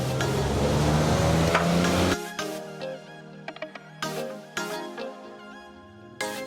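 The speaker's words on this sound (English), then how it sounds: "she's frying an egg for me right now" Sizzling and crackling from an egg frying in a hot pan at a Lagos street food stall, with scraping and clinking of a utensil and short bursts of stirring, fairly close.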